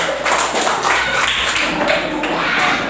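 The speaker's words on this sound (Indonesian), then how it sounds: "tepuk tangan buat kelas-kelasnya" A class of students in a school lesson claps together, a close, busy patter of hands with some heavier taps and thuds mixed in, continuing without pause.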